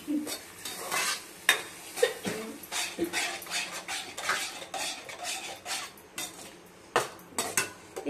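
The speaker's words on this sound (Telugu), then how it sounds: "పెరుగు అయితే యాడ్ చేస్తున్నాను" Yogurt is stirred into hot oil in a pan with a metal spoon, giving repeated scraping and clinking strokes over a soft sizzle at moderate volume, with no voices.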